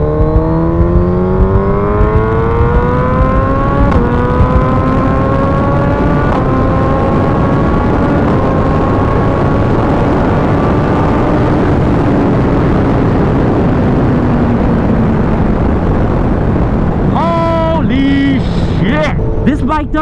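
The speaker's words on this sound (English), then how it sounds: "this bike does not stop accelerating ever. That was pinned, that was full throttle" Suzuki Hayabusa motorcycle pulling hard at full throttle in third gear, a loud close engine whine climbing steadily in pitch for over fifteen seconds before a brief drop and change near the end, with wind roar throughout.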